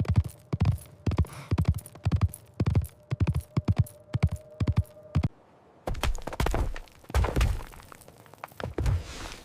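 Horse hooves clip-clop in a quick, uneven riding rhythm over rough terrain, close and loud, with sharp thuds breaking into a more jumbled, scraping stretch near the end.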